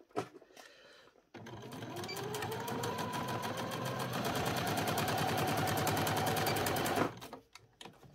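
A sewing machine runs a fast continuous stitch for several seconds, joining fabric ends into a loop. The rapid mechanical chatter is close and steady, with brief handling clicks before and after.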